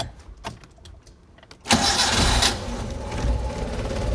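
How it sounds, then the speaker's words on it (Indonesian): A Suzuki Carry 1000 (ST100) engine is cranked with the starter after a spark plug check and catches quickly, a few faint clicks giving way to a loud, steady close-up idle that runs to the end. "Nah, coba kita starter dulu."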